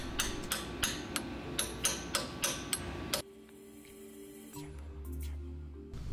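A hammer strikes a small chisel to straighten the tab of a locking washer on a Toyota 4x4 solid front axle hub, about nine sharp metallic taps in even rhythm, then quieter shop sounds follow.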